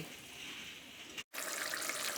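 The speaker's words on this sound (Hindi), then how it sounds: "अब 1 कप पानी डाल के" Water pours steadily into a pan for chicken korma gravy, a soft continuous splashing broken by one brief pause before flowing again.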